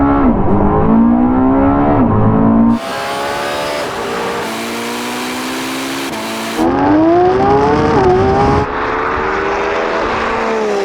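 A Lamborghini Revuelto, Porsche 918 Spyder and Ferrari SF90 launch in a drag race, their engines screaming loudly and rising in pitch through several abrupt gear changes, with the sound shifting between cars.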